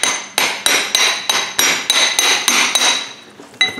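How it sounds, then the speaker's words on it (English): Hammer tapping a brass punch to drive a CV joint off its shaft in a vise, about ten sharp, evenly spaced ringing metallic strikes, close and loud with no talking. "So then we'll finish tapping it."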